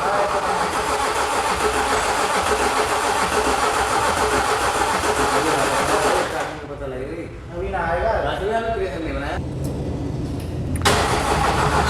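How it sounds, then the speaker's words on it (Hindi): A Range Rover Sport V6 diesel engine, freshly overhauled, turns over on its starter with the injectors unplugged so it cannot fire, a loud, steady mechanical cranking running for about six seconds before dropping away and briefly resuming. "सिर्फ सेल्फ मार के इंजन को घुमा रहे हैं"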